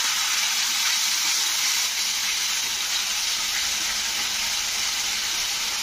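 A splash of water hits a hot pan of frying okra with chili and turmeric, giving a loud, steady sizzle and steamy hiss that holds at an even level without a break.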